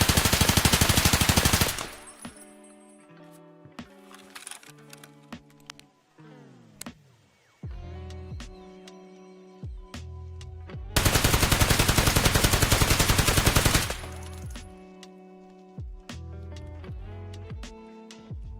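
SCAR rifle in Escape From Tarkov firing two long full-auto bursts, loud and close, separated by stretches of quieter mechanical clicks and handling sounds.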